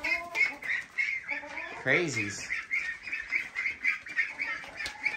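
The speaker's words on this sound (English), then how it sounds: "But there's the ducks." Five-week-old ducklings quack and peep in a rapid, close series of short calls while a person speaks briefly nearby.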